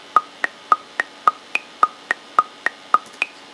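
Klopfgeist software metronome clicks in Logic, a dozen sharp, evenly spaced ticks about every quarter second, with a higher-pitched accent click marking the start of each bar.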